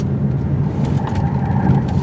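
A 2017 Lincoln MKZ luxury sedan driving through a tight turning circle, with a steady low engine and road drone throughout and some faint tire and cabin noise on top, no talk.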